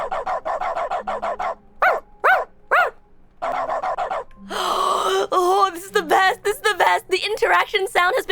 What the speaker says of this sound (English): action sound has been replaced with dog.